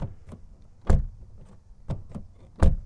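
Several solid thumps from the door of a 2018 Kia Stinger GT 3.3 V6 twin-turbo being shut, close up and spaced unevenly, with quieter handling clicks and rattles between them.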